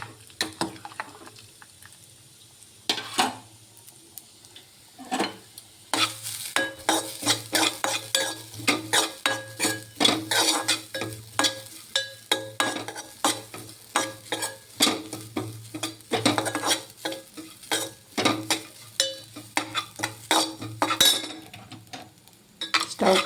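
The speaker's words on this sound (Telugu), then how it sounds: "ఇప్పుడు మరొక 1/2 స్పూన్ నెయ్యి వేసుకొని కొబ్బరి వేయించుకుంటున్నాను." Dry coconut frying in ghee sizzles while a spoon stirs it briskly, making a dense run of scraping taps and metallic clinks against the pan, close up and continuous with no voices.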